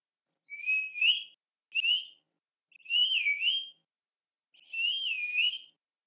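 A shepherd whistles commands to a sheepdog in the Burren, giving four separate clear, shrill whistle calls that rise and fall, with short silent gaps between them and no talking.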